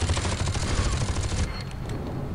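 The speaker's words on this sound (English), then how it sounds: "Oh no, I'm getting shot at" Rapid automatic gunfire crackles in a dense continuous burst during a multiplayer match of Aliens versus Predator 2, loud and close, then cuts off abruptly leaving a quieter tail of fainter shots.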